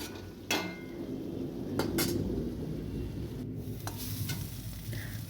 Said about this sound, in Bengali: জল দিলে ভালোভাবে নাড়া যায় বা কষানো যায়